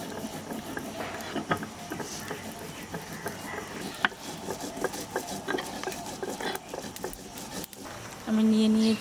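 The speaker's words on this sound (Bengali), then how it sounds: "আমি আদা বাটা আর লঙ্কা বাটাটাও বাটায় করে নেব" Ginger and chili being ground into paste by hand on a grinding stone: steady rough scraping and rubbing with scattered knocks, fairly quiet, ending with a brief steady hum.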